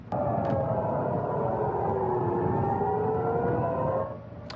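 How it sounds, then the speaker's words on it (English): Loud wailing air raid sirens in Jerusalem rise and fall steadily, several tones overlapping, sustained for seconds before fading slightly at the end. "Sirens rang out in Jerusalem as Iran launched strikes on Israel and across the Gulf region."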